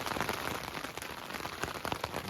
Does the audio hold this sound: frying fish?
no